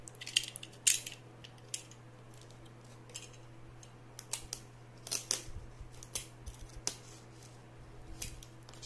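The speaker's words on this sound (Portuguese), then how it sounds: "Vou tirar o lacre dele aqui. Meu amigo estilete tá aqui." A box cutter slices through the plastic seal on a boxed monitor mount, making scattered sharp snips and crackling cuts at close range, spaced irregularly over quiet room noise.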